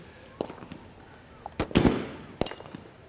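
Sniper rifle shots at an outdoor SWAT team challenge, several sharp cracks spread across the moment, the loudest pair close together near the middle, with faint background chatter.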